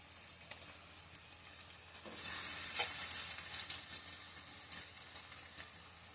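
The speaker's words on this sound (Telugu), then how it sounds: "ఇప్పుడు చేప ముక్కలు ఇందులో వేద్దాం" Fish pieces drop into a pan of fried onions and masala, and a soft sizzle swells midway and then settles into a steady, fairly faint frying hiss with no talk.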